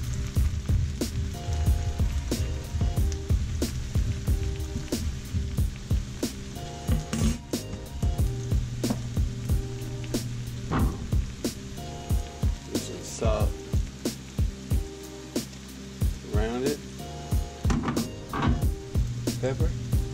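Mushrooms being stirred around a pan for a mushroom and spinach marinara, with steady sizzling, frying crackle and repeated scraping and clacking of the utensil against the pan over about twenty seconds, no talk over it.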